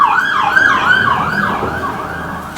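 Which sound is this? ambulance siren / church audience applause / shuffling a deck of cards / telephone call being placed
ambulance siren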